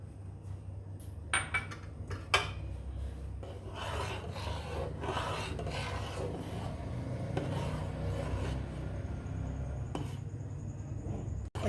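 A spoon scraping and stirring through milk vermicelli with almonds and fresh cream in a pot, a continuous soft rasping rub with a few sharper metallic knocks early on, close and fairly quiet, no voices.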